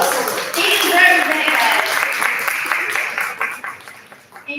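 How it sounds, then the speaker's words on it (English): Applause from a legislative policy conference audience, a broad wash of many hands clapping close and loud that slowly fades toward the end, with voices mixed in. "give him a round of applause"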